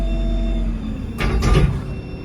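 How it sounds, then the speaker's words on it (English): A van's sliding door rolls along its track and thuds shut, two quick heavy movements close by with low background rumble. "slide the door across and lock it"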